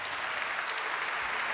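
Theatre audience at the Teatro Politeama in Palermo applauding, a steady dense wash of clapping from a large crowd, no voices over it.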